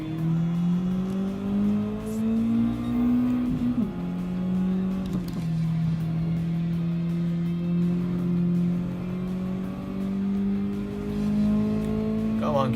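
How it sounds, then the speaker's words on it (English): A Mazda race car engine in the racing game Gran Turismo 7 holds a steady, loud drone that dips and climbs through gear changes, with a person talking over it. "Mazda sounds great though. Real nice sounding engine."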